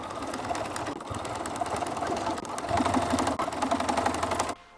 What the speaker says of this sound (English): stitch close to the edge here as a top stitch